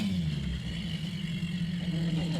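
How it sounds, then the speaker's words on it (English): Twin outboard engines on an Axopar 45 Sun Top, a 45 ft Scandinavian cabin cruiser, rumble steadily at low pitch, a constant near drone that holds even throughout. "Let's hear the engines roar."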